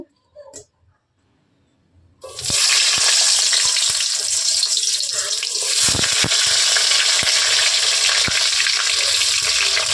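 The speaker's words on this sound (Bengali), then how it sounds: "মাছ ভাজার তেলে এবার আলুগুলো ভেজে নেব" Potatoes frying in oil left over from frying rohu fish: after a couple of quiet seconds, a loud, continuous sizzle starts up close, dotted with sharp pops and crackles.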